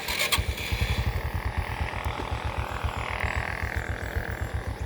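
A motorcycle engine starts and settles into a rapid, even idle, its close low putter thumping steadily throughout with a faint higher whine above it.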